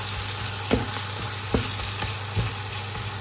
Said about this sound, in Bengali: কাঁচামরিচ পেঁয়াজ হলুদ লবণ আর কিছুই না দিয়ে ডিমটা দিয়ে ভাজি করে ফেলবো।